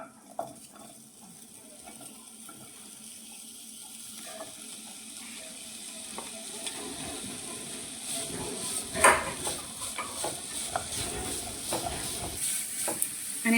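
Mawa cooks in a heated pan over a low gas flame, giving a soft, gradually rising sizzle, and a spoon scrapes and stirs it in repeated strokes.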